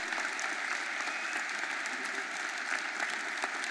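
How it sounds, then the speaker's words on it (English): Steady, dense applause from a large crowd at a mayoral inauguration in Philadelphia, loud and continuous throughout with no voices standing out. "Give Darrell Clark a huge round of applause."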